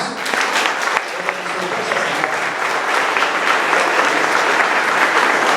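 A church congregation at a special officer-ordination service applauds steadily, with dense, sustained clapping that fills the room, loud and continuous with no pause.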